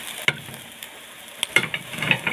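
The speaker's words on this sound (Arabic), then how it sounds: "هنفضل طبعا نقلب فيه شوية" Koshari, rice with cumin and salt, is stirred in a pot, with scattered scraping and clinking spoon strokes against the metal over a faint low sizzle, quiet and close.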